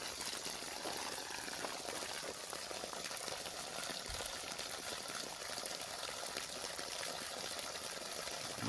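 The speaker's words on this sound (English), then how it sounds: "You can see all the holes up front where the water's just pouring out of." Water pouring and trickling out of holes in a rusty steel gas tank, a continuous faint splashing and gurgling stream heard alone, fairly quiet and steady.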